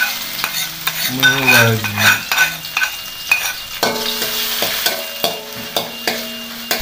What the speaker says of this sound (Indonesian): sekarang kita akan tumis dulu untuk bumbunya ya, sampai harum